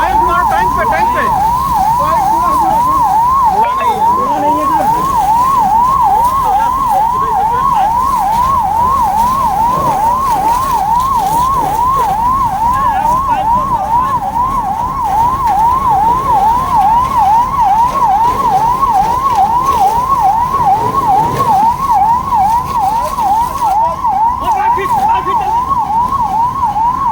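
A fire brigade siren wails at a highway accident fire in Sitapur, where a bike and a dumper truck burned. The fast, oscillating wail is loud and unbroken throughout, over a rumble of traffic.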